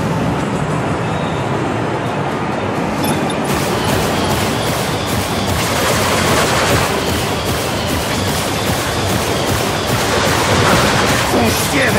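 Loud, sustained bursts of rapid gunfire in the video game Bulletstorm rattle on almost without pause, dense and chaotic like a heavy firefight.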